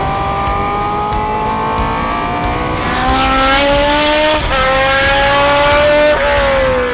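An old Australian or American muscle car engine revs hard and accelerates, its loud, rising whine climbing through the gears with brief dips at each shift, close and continuous with no talk.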